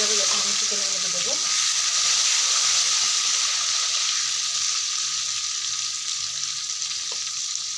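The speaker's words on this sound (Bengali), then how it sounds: "তারপর আমি টমেটোটাকে একটু ভেজে নেব" Tomato fries for chicken curry in a pan, a loud, dense, close sizzle that holds steady throughout, with a brief faint clatter near the start.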